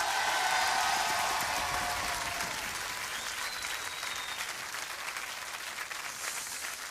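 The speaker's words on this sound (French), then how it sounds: "vous pouvez l'applaudir" Broad, steady applause from an audience in France after a song is presented, many hands clapping continuously at an even level, with faint tonal traces drifting through.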